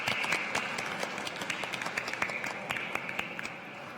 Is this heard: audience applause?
yes